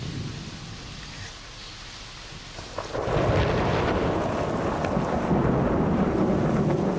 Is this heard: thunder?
yes